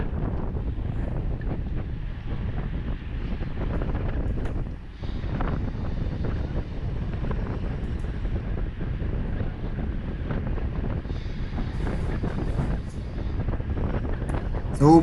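Strong, steady wind buffets the microphone while cycling into a headwind on a midweek training ride, a continuous low roaring rush with brief dips and no speech.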